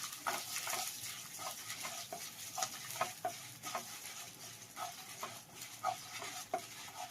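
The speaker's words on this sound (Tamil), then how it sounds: "இது கொஞ்சம் நல்லா செவக்க வறுக்கட்டுங்க" Garlic cloves and dried red chillies fry in a pan, giving a steady, fairly quiet sizzle broken by repeated scraping stirs and small crackles, with no talking.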